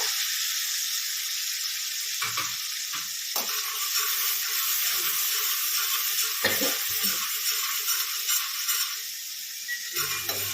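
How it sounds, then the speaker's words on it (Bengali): Ginger and green chili paste sizzling in hot oil for a Bengali home-cooked dish, a steady bright crackle running throughout with brief scraping stirs breaking in now and then. "আদা কাঁচা লঙ্কা বাটাটা তেলের মধ্যে দিই"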